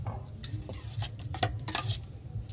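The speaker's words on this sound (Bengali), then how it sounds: "এটাকে ভালো করে মিশিয়ে নাড়াচাড়া দিয়ে নেব" A utensil stirs and mixes semolina batter for chitoi pitha in a bowl, giving steady scraping and light clinking strokes that repeat throughout, close up with no talking.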